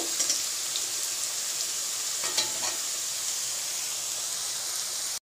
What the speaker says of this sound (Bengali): সজনে ডাঁটা ভাজতে খুব তো বেশি সময় নেবে না।